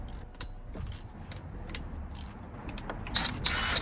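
A hand ratchet clicks in quick rapid strokes while loosening bolts on a black Lexus IS200 being prepped for drifting. The clicking is close and fairly steady over a low background rumble, and it grows louder and brighter near the end.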